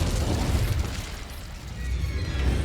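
Incendio fire spell cast in the Hogwarts Legacy video game, a loud, close burst of roaring, crackling flame with a booming low end that dips briefly and then swells again.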